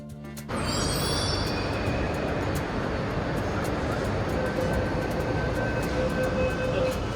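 Loud, steady rumbling roar of a metro train at a station platform, rising sharply at the start and holding constant, with faint high squeals over the top.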